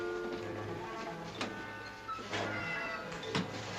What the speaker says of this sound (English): Bist du das Kitty? Komm her zu mir